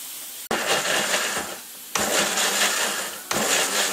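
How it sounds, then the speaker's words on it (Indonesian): A blender whirs continuously, blending spices with warm water and a little salt for oxtail soup, in three sustained bursts with brief gaps between, close and fairly loud. "Nah, kita blender."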